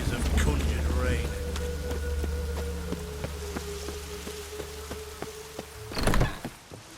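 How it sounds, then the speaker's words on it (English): Steady rain conjured by witches in The Witcher 3 falls in a soft, even patter, with tonal game sounds and a louder rumble near the end. "Witches have conjured rain."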